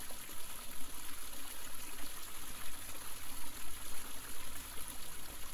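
A steady, continuous rush of running water, like a stream or trickling flow, fills the scene evenly at a moderate level with no voices over it.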